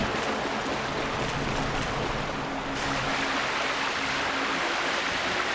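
Rushing water in the Lakebed Temple of Zelda: Twilight Princess HD, a loud, continuous broadband gush like a torrent or waterfall, steady and unbroken with no talking over it.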